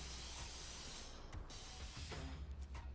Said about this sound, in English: Just spraying some stuff on here